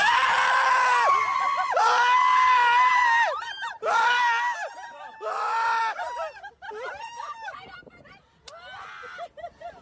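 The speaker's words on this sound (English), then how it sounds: "We were all screaming." Several people scream together on a swaying amusement ride, with long high-pitched shrieks rising and falling in waves. Shorter yelps and bursts of nervous laughter cut in between the screams.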